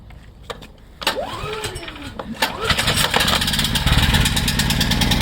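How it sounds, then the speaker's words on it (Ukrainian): A Tensite 8 kW inverter generator is started, with a short cranking whine that catches into a steady, rising engine hum, running loud and close through the rest. "Все, генератор у нас працює."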